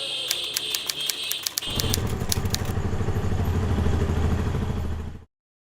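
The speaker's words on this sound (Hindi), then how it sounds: "क्या भाई, कितनी तेज बाइक चलाते हो?" A fast-ridden motorcycle comes in after a stretch of sharp ticking and clicks, its engine rumbling low and steady at close range for a few seconds before cutting off abruptly.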